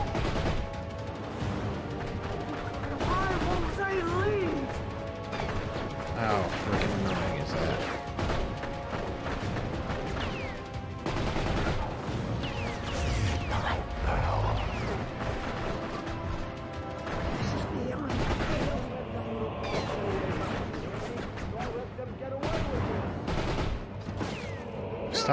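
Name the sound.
gunfire in The Darkness, video game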